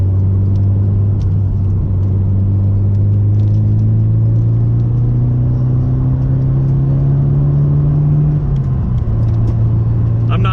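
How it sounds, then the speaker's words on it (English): Car engine droning loud and close while driving a winding mountain road, a steady low hum that rises gently in pitch, dips briefly as the driver shifts gears, then settles again. "I'm not shifting all the way to red line either. I'm kind of granny shifting a little bit."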